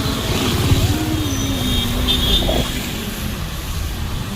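Steady road traffic in Kudal, with cars and motorcycles passing close by, forming a continuous engine drone and a rising pass-by whine, with no voices.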